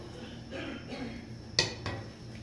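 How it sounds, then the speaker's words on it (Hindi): Rice being stirred in a cooking pot for kheer, with soft scraping and a couple of sharp metallic clinks of the spoon against the pot, close over a steady background hiss. "इसको हिला देंगे ताकि चावल ऊपर नीचे हो जाए।"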